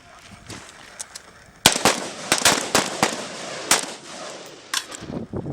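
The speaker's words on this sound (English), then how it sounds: "The next morning, the Marines start their own shooting package." Marines fire rifles at a field shooting range in Djibouti, with a rapid irregular burst of loud, sharp gunshots cracking one after another, following a quieter opening.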